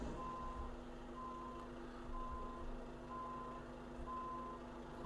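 A truck in American Truck Simulator reverses with a steady series of faint, evenly spaced beeps over a low engine hum.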